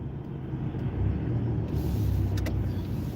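Big trucks turning in traffic produce a loud, continuous low engine rumble close by, with a faint higher hiss and a couple of brief squeaky brake-like tones near the end.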